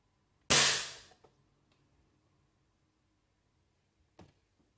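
A single sharp shot from a Webley Junior .177 smoothbore air pistol, a loud close crack with a short decaying tail, followed a few seconds later by a fainter click or clack.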